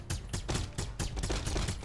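Rapid bursts of gunfire from a robot twin-stick roguelike shooter, each shot firing three projectiles, crackle in a dense, continuous volley at moderate loudness with no talking.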